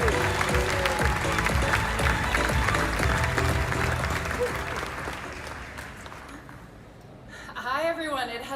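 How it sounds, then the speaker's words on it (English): Audience applause fills a hall with dense, sustained clapping that fades away over several seconds before a voice begins speaking. "Let's give him a round of applause."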